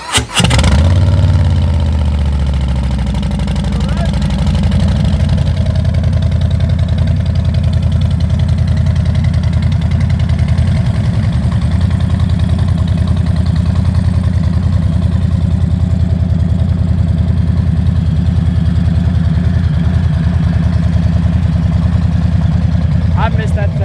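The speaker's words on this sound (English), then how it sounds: "Let's see if she cranks up on us." A 2021 Harley-Davidson Street Bob 114 motorcycle engine cranks and fires, then settles into a steady, loud, close idle that runs throughout with a slight rise in pitch near the end.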